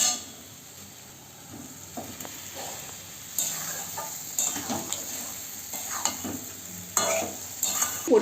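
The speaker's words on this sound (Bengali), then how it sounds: "এইভাবে যখন কষাবেন তখন ভালো করে তলাটা নেড়ে দেবেন" Fried potatoes are turned through a spice paste for Bengali aloo dum, with soft sizzling and intermittent scrapes and clinks of a spatula against the pan that grow busier after the first few seconds, no talking.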